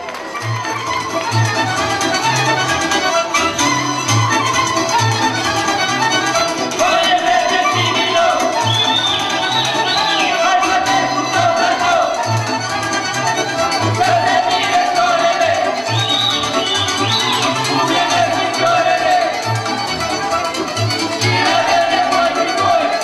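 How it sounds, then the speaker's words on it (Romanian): Steady audience applause at the Nedeia folk festival in Romania, a dense continuous patter of clapping from a crowd that holds at an even level throughout. "Aplauze!"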